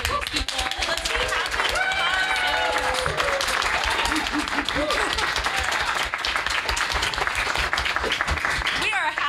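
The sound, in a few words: audience applause and clapping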